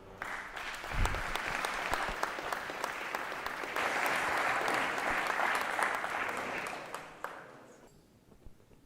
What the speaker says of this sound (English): So let's give a round of applause for Sharvil.